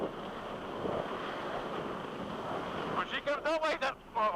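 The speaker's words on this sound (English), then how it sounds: "This 37-foot outer limits handling these rough waters unbelievably, very, very well." A 37-foot Outer Limits race boat pounds through rough offshore water during a race at Ocean City, Maryland, a steady roar of wind, spray and engine, with a commentator's voice cutting in near the end.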